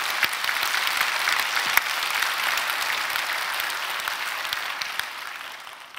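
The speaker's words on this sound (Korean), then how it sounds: "하나님께 영광 큰 박수 올려드리겠습니다" A large church congregation claps loudly and continuously during a Sunday worship service, a dense sustained applause that fades slightly at the end.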